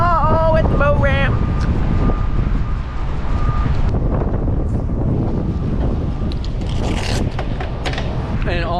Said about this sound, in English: An awful day for boating and it's so windy